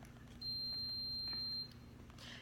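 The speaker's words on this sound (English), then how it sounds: "that beep is telling me my coffee's ready" A coffee maker sounds a single steady high electronic beep, held for about a second, signalling the coffee is ready in a quiet indoor room with a low hum beneath.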